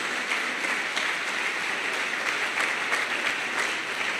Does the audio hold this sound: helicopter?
no